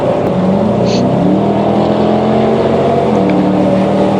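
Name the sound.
sports car engine revving, exhaust popping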